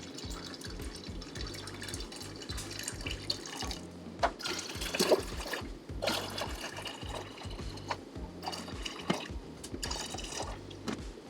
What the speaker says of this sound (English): to pour this sweet tea into each of these vessels that are partway filled with water